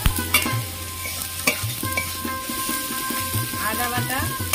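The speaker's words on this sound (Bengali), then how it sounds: "লঙ্কার গুঁড়ো, জিরে গুঁড়ো সাথে ভালো করে ভেজে নেব।" Chili powder and cumin powder frying in a pan for a Bombay duck curry, with a utensil stirring and scraping rhythmically over a continuous close sizzle.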